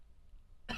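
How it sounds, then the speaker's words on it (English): A single short cough bursts out close and loud at the very end, after a near-silent moment, during a casual podcast conversation. "I lied so much I coughed"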